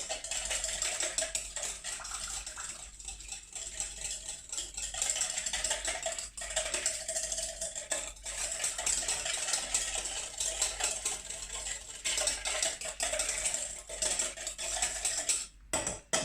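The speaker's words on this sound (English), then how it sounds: "Give that a whisk just to get it all mixed up." A whisk stirring a sugar and oil mixture in a bowl, steady scraping and rattling against the bowl that runs continuously close up with brief pauses.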